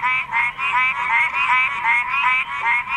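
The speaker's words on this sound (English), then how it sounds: "Copes and eastern gray tree frogs chirp alongside the fowlers, toads, and northern spring peepers." Cope's and eastern gray tree frogs, toads and spring peepers call in a spring forest chorus, a dense pulsing trill of repeated chirps and rattles that is loud, near and continuous with no talk.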